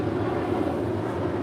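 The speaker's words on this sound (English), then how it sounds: "This is American Airlines Flight 1925 departing to Charlotte, North Carolina" An American Airlines Airbus A321 departing LAX, a steady broadband engine roar with a low rumble, continuous and fairly loud for the whole brief moment.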